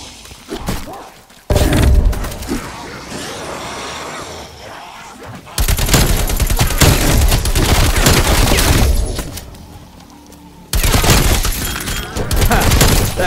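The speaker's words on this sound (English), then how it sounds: "That auto turret was built to suppress riots and escape attempts. It will tear through you in seconds." An auto turret fires in Call of Duty Black Ops Cold War Zombies on the Mauer der Toten map. Three loud, sustained bursts of rapid gunfire are split by brief quieter gaps.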